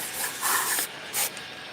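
Cleaner is sprayed into the main throttle tube of a 2007 KTM 450 EXC in short hissing bursts, close and fairly quiet, with brief pauses between them and no talk.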